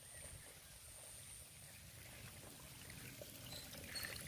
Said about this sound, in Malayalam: ഞാൻ അവിടെ നിന്നും വെള്ളം ഒഴിച്ച് തരുന്നുണ്ട്.